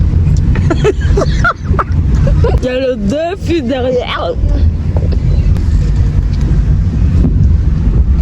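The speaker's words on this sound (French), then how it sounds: "Alors les amis, là je suis en voiture." A car driving along a road in Mayotte, a low steady engine and road rumble with wind buffeting against the microphone, under someone talking in French from inside the vehicle.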